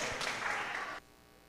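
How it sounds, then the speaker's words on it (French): Audience applause at a diocesan youth talent competition audition, a brief dense burst of clapping that cuts off abruptly after about a second. "On applaudit"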